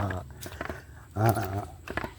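Dogs left behind at a shelter area bark and growl in short bursts, fairly close, over a noisy outdoor background.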